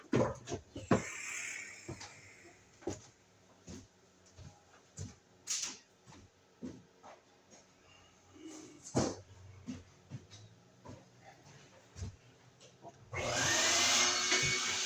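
A household vacuum cleaner starts up loud and steady at the very end, after a stretch of scattered knocks and handling noises near an outlet box being rewired.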